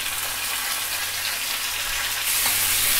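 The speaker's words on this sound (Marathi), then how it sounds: "चांगला परतवून घेऊया तेलात." Chopped tomato fries in hot oil in a pan, a steady close sizzle running unbroken and growing a little louder near the end, with no voices.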